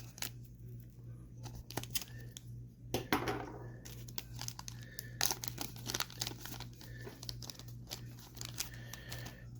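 Crinkling foil wrapper of a 1991 Fleer Ultra baseball card pack being torn open, with a burst of ripping near the middle amid steady close crackling and rustling over a low hum.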